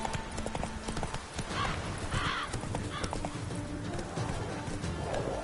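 A horse gallops in The Witcher 3, quick rhythmic hoof clip-clops with a brief whinny, set against a busy game soundscape of ambient noise and cries.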